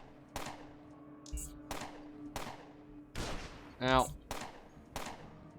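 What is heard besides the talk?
sentry turret gunfire in the video game UnderRail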